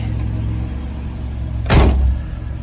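A Chevrolet Camaro, back running after more than ten years in storage, idles with a steady low hum, broken by a brief, louder whoosh or thump near the end.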